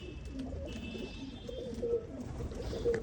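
A champion racing pigeon coos in low, faint, repeated murmurs, with a quiet steady hum and a thin tonal whine behind it.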